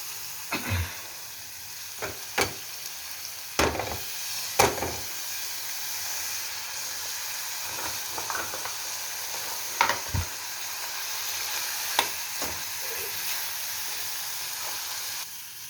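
Boiled egg frying in bubbling oil in a pan for a fish egg fry, a steady low sizzle with sharp clinks and scrapes of stirring scattered throughout, no voices.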